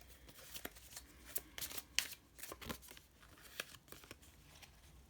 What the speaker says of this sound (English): I'm gonna pull a couple of cards just to